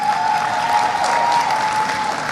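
A university convocation audience at Northern Caribbean University claps in a full, continuous burst of applause, joined by a thin steady whistling tone running underneath.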